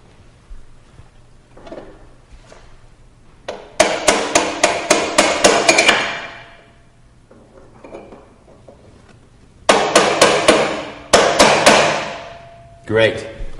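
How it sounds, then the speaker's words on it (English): Sharp metal hammer strikes tighten the preload lock ring on a bike's rear shock, coming in two quick bursts of about eight loud ringing blows each, with quieter pauses and faint clinks between. "Now let's tighten the lock ring so the preload adjuster can't back off while you ride the bike."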